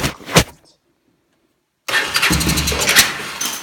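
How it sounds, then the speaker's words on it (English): A 1986 Honda Fourtrax 350 ATV starts cold: a brief cranking, a pause of near silence, then the engine catches and settles into a loud, close, rough idle with rising revs. "This is a cold start from a week ago."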